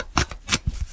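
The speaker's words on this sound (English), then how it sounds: "Let me shuffle again" Tarot cards being shuffled by hand in short crisp riffles, three quick bursts of papery flutter in about a second, close and clear with no talking.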